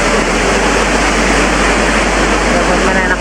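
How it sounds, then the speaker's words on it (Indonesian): Waterfall behind the Atta'awun mosque at Puncak Bogor, a steady, loud, broadband rush of falling water that does not let up. "ternyata di belakang ada air terjun kayak gitu."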